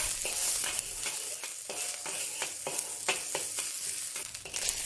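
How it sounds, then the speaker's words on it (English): Minced ginger and garlic sautéing in hot oil in a pan: a close, steady sizzle broken by repeated scraping stir strokes, with no voices. "Add the minced ginger and garlic and saute until aromatic."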